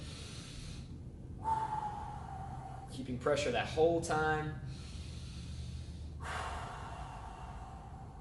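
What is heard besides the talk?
heavy breathing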